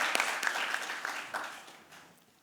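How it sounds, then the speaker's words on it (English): An audience at a launch event for Anandi Urban Lifestyle Pads claps in a moderate round of applause that fades gradually before a brief final burst. "A big round of applause"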